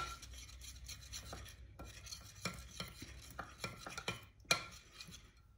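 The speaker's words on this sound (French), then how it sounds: "Tac, je remélange." A utensil stirs and scrapes through chicken marinade sweetened with agave syrup in a bowl, giving quiet, repeated rasping strokes at a steady pace, close and soft with no talk.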